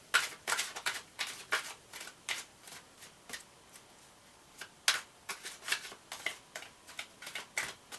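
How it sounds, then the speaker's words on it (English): Oracle cards riffled and shuffled in quick crisp bursts, an irregular run of papery flutters and snaps, close and fairly quiet, with no talking. "I'm just going to shuffle these cards now."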